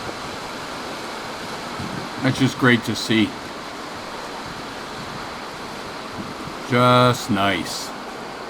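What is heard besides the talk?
Rocky River east branch flowing water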